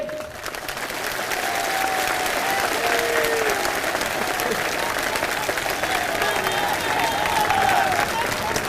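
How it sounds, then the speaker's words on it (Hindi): A crowd at a BSP party workers' conference in Rewa claps long and steadily, a dense, even wash of applause with a voice heard over it. "एक बार जोरदार तालियां हमारी माताओं बहनों के लिए।"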